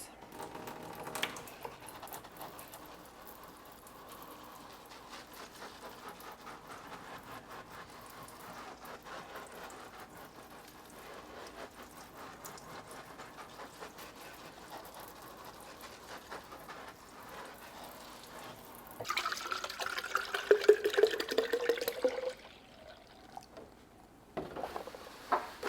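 Water rinses over potted aroid plants, a steady soft spatter like light rain that swells louder and closer near the end before briefly cutting off.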